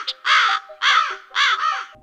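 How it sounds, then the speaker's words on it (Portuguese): A crow gives three harsh, close caws in quick succession, loud and clear against silence, each call a rasping burst with short gaps between. "O barulho do corvo moderno"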